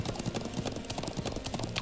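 Rapid rhythmic clip-clop of horse hooves from the Trails of Cold Steel video game, a close galloping beat running the whole time over background game music.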